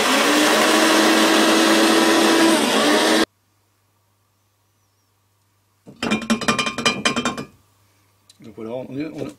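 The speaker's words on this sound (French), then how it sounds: "Donc là je vais moudre la propolis," Propolis ground into powder in an electric coffee grinder: a loud continuous whirring grind for about three seconds, then silence, followed by a short rattling burst of the machine or its contents and a later clinking.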